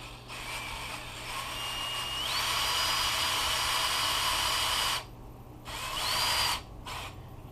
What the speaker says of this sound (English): start with an 1/8 inch bit and work my way up to 3/16.